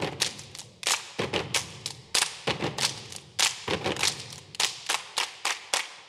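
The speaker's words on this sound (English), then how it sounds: "we're gonna do a step with a clap" Step dance performance with a crew stomping and clapping in unison, sharp percussive hits in a driving, regular rhythm, loud and close, with no talking.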